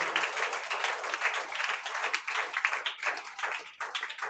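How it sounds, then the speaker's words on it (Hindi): A congregation at a Friday prayer meeting applauds loudly, a dense continuous burst of many hands clapping that fills the whole stretch, with a faint voice mixed in underneath. "जोरदार ताली बजा परमेश्वर को।"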